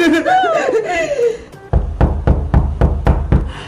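A door is knocked on in a steady, close series of about seven firm thumps, following a stretch of high, squeaky cartoon-like laughter and chatter.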